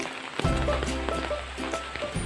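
Rain falling at a farm in the countryside, a steady broadband hiss with scattered drops, continuous and fairly close throughout, no talking.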